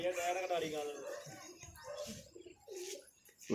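Pigeons coo in soft, low warbling calls close by, mixed in with people, including a child, talking over them.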